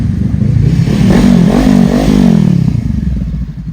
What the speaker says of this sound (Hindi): और यहाँ पर इब्राहिम ले रहा है अपने मामों के साथ हैवी बाइक पे राइड